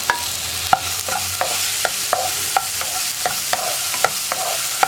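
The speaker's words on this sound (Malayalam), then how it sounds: "ഈ പഴം ഒന്ന് കളർ മാറി വരുന്നത് വരെ ഇളക്കി കൊടുക്കുക." Cut bananas are stirred in ghee in a pan for a sweet banana snack, with a soft sizzle underneath and a regular series of distinct spatula scrapes and taps, roughly two per second.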